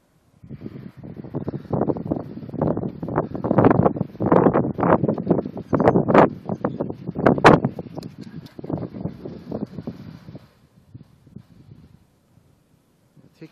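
Home wind turbines, including an HY600, spin on roof mounts with a loud continuous rushing and buffeting whoosh that swells and flutters for about ten seconds, then drops to a faint hiss.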